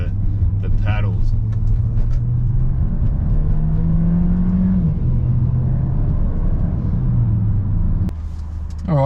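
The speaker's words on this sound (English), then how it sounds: "I'll just give the B180 a bit of acceleration and see how we go" A Mercedes B180 accelerates with a loud, steady engine drone whose pitch climbs, drops at a shift and climbs again, heard from inside the car over road rumble, with a voice briefly speaking near the end.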